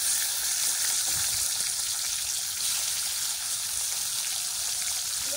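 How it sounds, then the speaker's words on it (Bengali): Koi fish frying together in oil on a rainy day, giving a steady, even hiss of sizzling throughout with no talking. "সব কইগুলো একসঙ্গে ভেজে নেব।"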